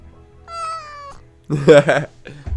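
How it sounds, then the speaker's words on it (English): Gunther, a pet cat, meows twice nearby: first a thin drawn-out tonal mew, then after a pause a louder, more strained meow, with a brief further sound trailing at the end. "And she's meowing."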